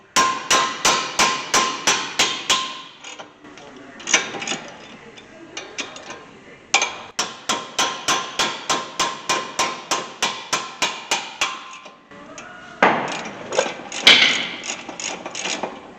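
Repeated sharp metallic hammer blows in rapid rhythmic bursts, pausing briefly between runs, loud and close on a brake caliper bracket of a 2007 Honda Accord.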